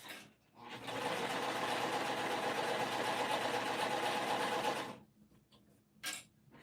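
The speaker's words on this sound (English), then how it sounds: "I'm just sewing this pocket regular stitch length." Sewing machine stitching a bag pocket at regular stitch length, a steady fast mechanical whirring run of about four seconds, close and clear, then stopping, followed by a brief soft rustle.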